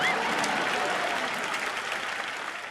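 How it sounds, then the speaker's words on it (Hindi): A studio audience bursts into sustained applause, a thick, even roar of clapping that holds steady and tapers slightly toward the end. "तालियां सबके लिए"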